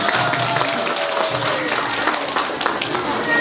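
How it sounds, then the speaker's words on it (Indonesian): Audience applause and cheering for a children's performance at a year-end kindergarten celebration at PAUD IT Bina Amal 03, a steady wash of clapping across the whole stretch with crowd noise mixed in. "tolong berikan tepuk tangan yang meriah padanya"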